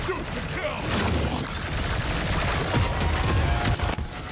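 The ArmsKore Coil Gun fires in Deep Rock Galactic: Survivor. The discharge is a dense, continuous, loud barrage heavily layered with game effects and explosions throughout.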